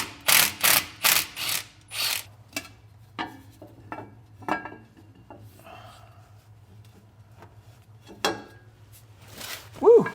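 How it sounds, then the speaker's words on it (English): Ratcheting and metallic clicks as the last two bolts come off a Jeep differential cover, a loud burst of rapid ratchet strokes followed by scattered tool clinks and handling noises, close up, with a brief voice at the end. "Pop the last two bolts out."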